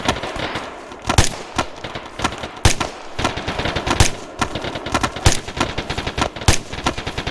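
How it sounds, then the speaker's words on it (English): Rapid automatic gunfire from an infantry section in the military shooter game Arma 3, sustained crackling bursts with sharp louder cracks punctuating a dense, continuous stream of shots. "Section rapid fire on that smoke."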